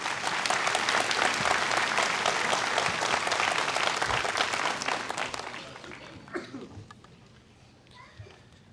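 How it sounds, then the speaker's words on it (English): Audience at a winter graduation ceremony claps loudly and steadily for about five seconds, then the applause thins out and fades, with scattered voices and a few last claps near the end. "Let's give him a round of applause also."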